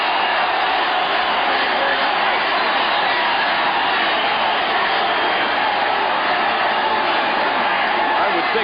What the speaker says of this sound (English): This crowd is up in arms.